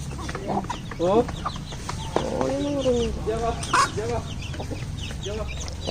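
Hens and chicks at a home coop cluck in short, close bursts and repeated calls, some louder than others, over a quiet rural background.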